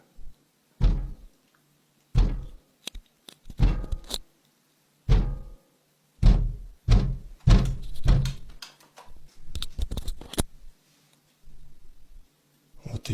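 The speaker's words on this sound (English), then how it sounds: "Continuous banging can be heard on the window with enough force that it causes the panel against it to rattle" Repeated heavy thuds strike a window at irregular intervals, some in quick clusters, with a panel rattling after the harder blows; near and loud.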